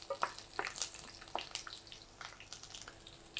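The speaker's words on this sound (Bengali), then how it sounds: "আস্তে আস্তে মরিচটা হালকা ভেজে একটু লাল করে দিয়েছি" Chilies and garlic frying in a pan for a Bengali flat bean stir-fry, a soft crackle with scattered pops and light scraping sounds, faint and close.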